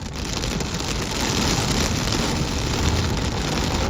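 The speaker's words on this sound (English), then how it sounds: "And it started raining." Steady rain falls outdoors over a village near a beach in Kerala, a dense, even hiss of drops on surfaces with no voices.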